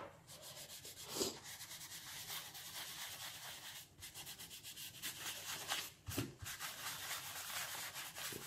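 Soft, continuous scratchy rubbing of a colored pencil moving in small circles on paper, close and steady, with brief pauses as the strokes shift.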